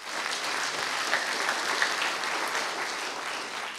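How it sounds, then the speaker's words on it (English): Steady, even applause from a conference audience after a programming talk, a moderately loud wash of many hands clapping with no talking. "they deserve an applause for this"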